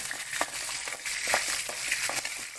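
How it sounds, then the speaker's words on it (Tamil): Small onions (shallots) fry in a pan for cucumber chutney, giving a steady soft sizzle with occasional scraping stirs, fairly quiet and close, with no talking. "இதையும் நல்லா வறுத்துக்கோங்க"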